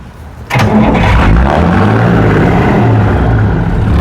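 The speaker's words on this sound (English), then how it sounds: "Also not standard is the dual exhaust, which really completes the look, and it sounds awesome." A Mercedes Unimog 406 with a non-standard dual exhaust starts up and settles into a loud, steady rumbling idle close to the microphone.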